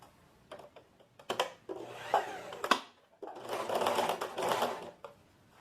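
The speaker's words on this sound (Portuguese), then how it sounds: "vou jogar a margem de costura pra cima e vou fazer um pesponto rente aqui" A sewing machine topstitches close along a trouser seam allowance on tailored-style trousers, short bursts of stitching and clicks, then a longer, steady run of fast mechanical whirring nearby, with no talk.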